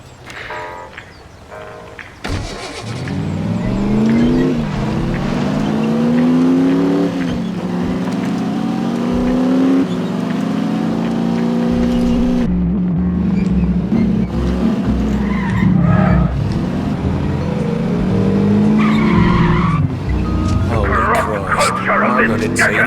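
An old car in The Saboteur video game drives and skids with sustained tire squeals and engine revving, loud and continuous, with voices talking over it.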